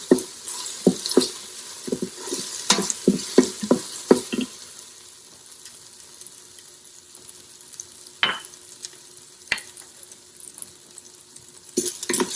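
Spices and chicken for nihari fry in an Instant Pot, opening with a burst of spoon clinks and stirring over a sizzle, then settling into a quieter steady frying hiss with occasional scrapes.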